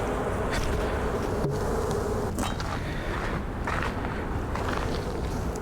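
Honeybees from about half a box swarm around an opened urban hive during inspection, a dense, loud, continuous buzz close by, with occasional handling knocks.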